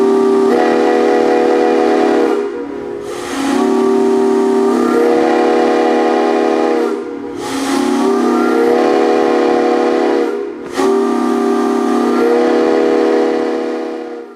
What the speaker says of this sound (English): they came equipped with a Santa Fe 5-chime whistle.